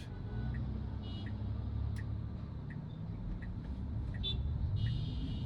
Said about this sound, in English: You guys are all honking